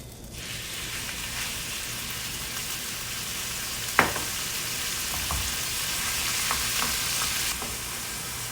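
Small pieces of beef fry in lard with a continuous bright crackling sizzle, one sharp utensil knock partway through and scattered pops, no speech.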